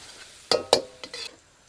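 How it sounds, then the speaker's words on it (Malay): Crushed garlic frying in oil in a pan, with a few sharp scraping stir strokes and a quiet sizzle underneath, close and brief. "Masukkan minyak secukupnya. Masukkan bawang putih yang kita tumbuk."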